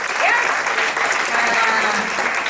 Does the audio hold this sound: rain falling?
no